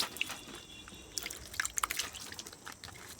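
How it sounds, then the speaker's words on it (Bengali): Water trickles and drips at the base of a young bottle gourd plant, a short run of close, uneven splashes and patters over quiet outdoor background. "গোড়ায় অল্প করে জল দিয়ে দিলাম"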